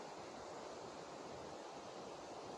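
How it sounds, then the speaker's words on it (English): Outdoor water sounds of waves or flowing water form a steady, even wash of faint noise, uninterrupted and alone, with no voices. "Ah, water sounds."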